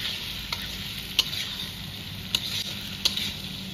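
Potatoes and peas sizzle steadily in a frying pan for an egg curry, with soft hiss throughout and a few sharp scrapes of a spoon stirring at intervals.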